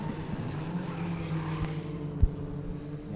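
Rallycross cars race at Mondello Park, engines droning steadily at a moderate distance with one sharp thump partway through, and no voices heard.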